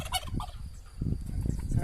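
Several turkeys gobbling in a farmyard, repeated burbling calls coming in quick bursts, fairly close but soft, with no talk over them.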